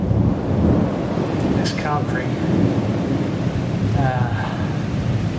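Heavy rain pours down during a hot-weather storm, a loud, continuous broadband roar throughout, with a person speaking briefly over it and a couple of short voice-like calls cutting through.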